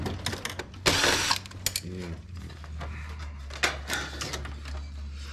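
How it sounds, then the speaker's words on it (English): A power drill whirs and ratchets in short bursts while a plasma TV is taken apart for scrap, mixed with clattering parts and people talking nearby. "Hand him that drill."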